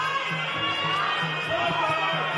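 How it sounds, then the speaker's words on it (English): Spectators at an MMA fight roar steadily, a continuous crowd wash of cheering and chatter urging a fighter on in the closing minutes of the bout. "the crowd is egging Jono Almond on"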